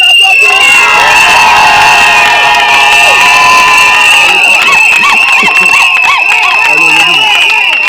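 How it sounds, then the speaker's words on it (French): At an outdoor sit-in protest led by women demanding a release, a large crowd cheers, shouts and whoops loudly and continuously, with shrill high-pitched cries and clapping layered through the din. "J'aimerais que nous puissions l'applaudir."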